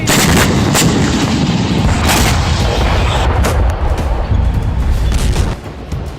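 Heavy, continuous booming blasts and rumbling explosions from Russian bombing in Ukraine fill the clip, loud and dense, easing slightly near the end.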